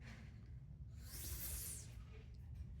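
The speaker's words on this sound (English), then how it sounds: "So I'm gonna blow across the top here" Someone blows a short, strong breath across the top of a drink, making a breathy hiss that rises and fades against a quiet background.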